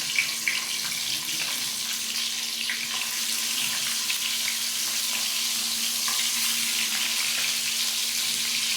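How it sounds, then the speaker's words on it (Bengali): Koi fish fry in oil in a pan with a loud, steady sizzle that hisses without pause from start to finish. "এখন আরেক সেট মাছ বাজে দিন।"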